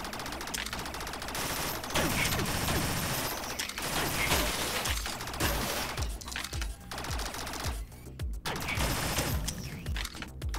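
Video game gunshots fired at flyers from behind cover, rapid repeated bursts mixed with mechanical clanks and game sound effects, loud and continuous with brief pauses near the end.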